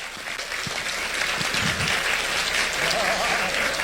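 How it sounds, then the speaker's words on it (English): A round of audience applause at a library centennial celebration with dance performers, a full, continuous clapping that fills the room and holds steady throughout. "let's give them one more round of applause"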